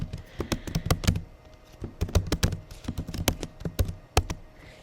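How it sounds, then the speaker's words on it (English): Typing on a computer keyboard to enter text, a run of clear, close key clicks in uneven bursts with short pauses, no talking. "I'm going to just type over that what you want to type."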